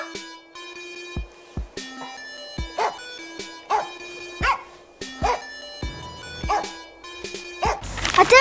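A small puppy barks and yips in a string of about eight short, sharp bursts with gaps between them. The barks rise in intensity toward the end and carry no talk.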